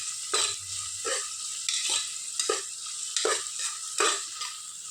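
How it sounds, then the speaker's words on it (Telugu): Onions and chillies sizzling in a hot pan, with a steady frying hiss broken by about six scraping stirs of a spatula at a regular pace, close and clear with no talking. "సో ఇదిగో చూడండి, నేను ఫ్రై చేస్తున్నాను."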